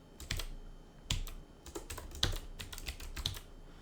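Quiet clicks of typing on a computer keyboard at a desk, irregular bursts of keystrokes with a few sharper key hits, close and fairly faint, with no talking.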